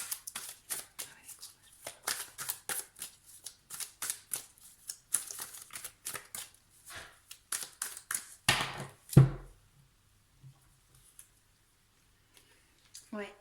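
Tarot cards being shuffled and laid out on a table, a run of close, crisp flicks and taps in an uneven rhythm, ending in a louder slap before near quiet.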